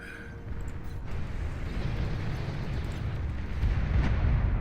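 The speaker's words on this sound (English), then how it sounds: "You never seen bombing like this before" Massed bombers drop bombs in a strategy video game, setting off a continuous, heavy rumbling barrage of explosions that builds and stays loud throughout.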